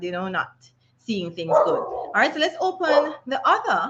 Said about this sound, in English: you know that I have many dogs, and for some reason they're choosing to bark right now